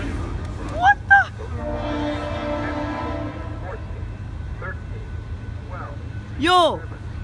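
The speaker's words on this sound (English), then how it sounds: "Freight train! Freight train!" A freight train in Encinitas rumbles past with one long horn blast, mid-distance and moderately loud, while people shout and exclaim excitedly over it.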